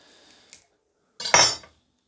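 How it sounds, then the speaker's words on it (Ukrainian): A knife cuts a slice of pork head brawn on a board in a quiet kitchen: a faint tap, then one brief, firm scraping cut lasting about half a second, close up, with silence around it. "Так, ну а тепер же ж відріжемо скибочку"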